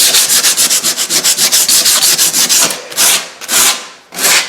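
Wood that had three coats of finish on it is sanded by hand with 40 grit sandpaper, giving a loud, steady run of rhythmic rasping back-and-forth strokes, then a few slower separate strokes with short pauses.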